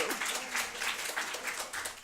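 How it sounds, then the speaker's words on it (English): Audience at a library brown-bag lunch talk held with the Albany YMCA claps steadily for about two seconds, a dense, moderately loud patter with no voices over it. "I think the people clapping are from my class."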